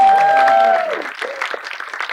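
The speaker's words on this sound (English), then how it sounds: "Give the applause, Carol" Audience applause at an award night, dense and steady clapping from a crowd that opens with a sustained whoop or cheer, then settles into continuous moderate clapping.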